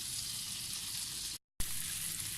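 Chopped celery frying in a pan, a steady bright sizzle hissing throughout, cut off by a brief gap of silence before resuming.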